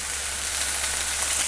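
Shrimp and corn frying in a skillet for a Mexican street corn dish, giving a steady, close hiss of sizzling oil with no pauses and no voices.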